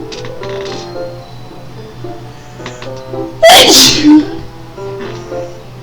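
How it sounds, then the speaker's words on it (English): A person lets out one sharp, loud sneeze midway through, a sudden burst against an otherwise quiet background with faint clicks and soft tones before and after. "I got the sneezes."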